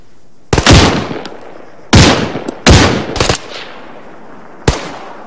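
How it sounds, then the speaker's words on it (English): Rifle fire aimed at an enemy soldier in the Zeko Hills of Afghanistan: four loud, close shots, each with a sharp crack and a long echoing decay. A quick double shot falls in the middle and a final lone shot comes after a pause. "Fire at that soldier, southeast."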